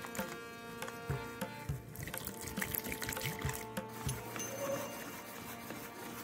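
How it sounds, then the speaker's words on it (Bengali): Water poured little by little into a salted batter in a home kitchen, soft splashing and trickling with bumps and clinks of mixing nearby, fairly quiet throughout. "এবার আমি অল্প অল্প জল দিয়ে একটা ব্যাটার তৈরি করে নেব।"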